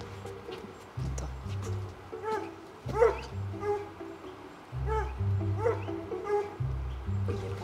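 A hunting dog bays repeatedly in the Swiss countryside, somewhat distant and echoing, with irregular barks and yelps over a low rumbling background.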